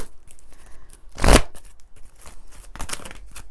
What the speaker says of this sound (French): Ok, allez, on va prendre quelques cartes de l'Améthyste Love.